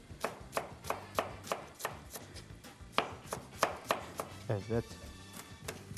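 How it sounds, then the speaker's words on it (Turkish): A knife chops sliced onion finely on a board in quick, even strikes, about two per second, close up, with a brief spoken word partway through. "Dilimlere böldükten sonra tekrardan ince ince hemen doğruyoruz."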